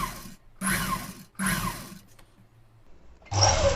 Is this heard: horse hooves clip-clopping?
no